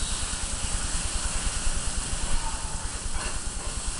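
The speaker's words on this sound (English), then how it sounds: "Let's smell that sauce cooking." Veggie burger topping sauce cooks in a pan with a loud, steady bubbling hiss close by, filling the whole stretch without talk.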